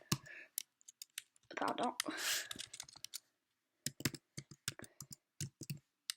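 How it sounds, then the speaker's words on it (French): Crisp keyboard clicks in short bursts as someone types a word into a computer's web browser, following a stretch of talking and a brief rustle; the keystrokes sound close and distinct. "On va taper Scratch."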